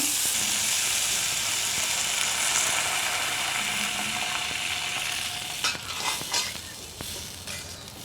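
Water is poured into a frying pan of green beans and fish, setting off a loud, steady sizzle that gradually eases, followed by a few close clinks and scrapes of stirring.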